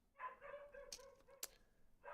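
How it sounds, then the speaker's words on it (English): A pet dog barks a few times indoors, short sharp yelps cutting in at moderate volume with some whimpering between, heard alone without talk. "My dog has been barking."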